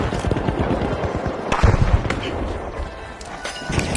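A frag grenade bursts in the arena shooter The Finals, a sharp close blast landing amid a busy stretch of crackling gunfire and impacts.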